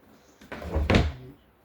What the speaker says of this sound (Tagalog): Tapos may drawer tayo sa ilalim ng higaan natin.